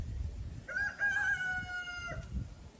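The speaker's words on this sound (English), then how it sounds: "Thanks, Rooster." A rooster crows once, clear and moderately near, a single drawn-out call over quiet low background rumble.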